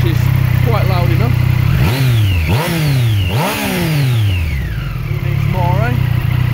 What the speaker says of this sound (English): Standard exhaust, which is quite loud enough.